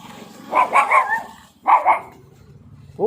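A big dog barks close by in two quick bursts of several yips each, with a short pause between and another bark starting at the end.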